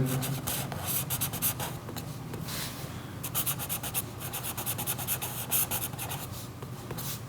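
Pen scratching steadily across paper as a triangle-area formula is written out in a maths lesson, a close, quiet stream of short strokes and pauses with no talk.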